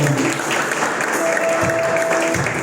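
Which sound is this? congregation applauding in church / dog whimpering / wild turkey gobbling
congregation applauding in church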